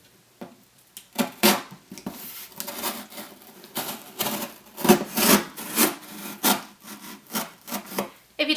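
A blade slices a panel out of a cardboard box, giving repeated rasping, scraping strokes in an irregular rhythm, close and fairly loud, with short pauses between cuts.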